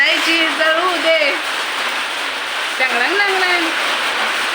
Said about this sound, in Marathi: चांगलं जरा पाऊस पडू दे